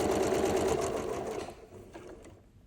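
Sewing machine stitching curved quilt block pieces, a steady rapid whirring hum for about a second and a half that then slows and winds down, close and alone.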